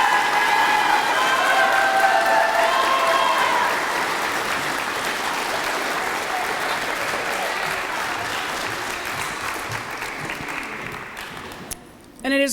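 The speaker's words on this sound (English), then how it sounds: "let's give them another round of applause" A large audience at a Gardner Academy graduation ceremony applauds the graduates, a dense, loud wash of clapping that slowly thins and fades over about twelve seconds, with a few cheers mixed in early on.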